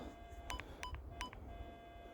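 Three short, faint electronic beeps from a metal detector signal sound in quick succession over low background noise in a forest.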